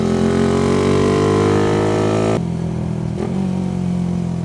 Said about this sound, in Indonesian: Jadi sebelum ganti gear, gas gua buka. Nah, gas-gas kecil yang gua lakuin.